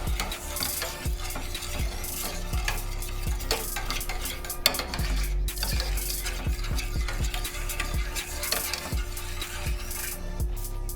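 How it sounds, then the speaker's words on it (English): Vegan sloppy joe mixture stirred in a pan over the heat: a constant low sizzle under repeated scraping and clinking of a spoon against the pan, close and steady throughout. "We're gonna stir this up a little bit"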